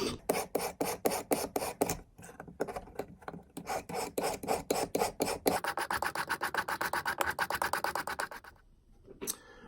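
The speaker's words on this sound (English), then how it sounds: "I should be able to take my file and file across this to remove any remaining material that's standing proud of the surface of the copper." A hand file rasps back and forth across a copper flush rivet in quick, regular strokes, slowing briefly then speeding into a faster run of scraping passes, close and clear with no talk.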